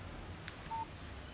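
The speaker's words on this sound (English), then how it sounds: "Text message from Barry" An incoming text message alert on a phone in the Alan Wake video game: a short click followed by a brief electronic beep over quiet background hum.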